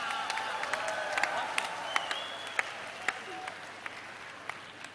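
An audience at a poetry recital in Bhopal applauds a young poet, a sustained crowd of clapping with sharper individual claps popping out and faint cheers mixed in.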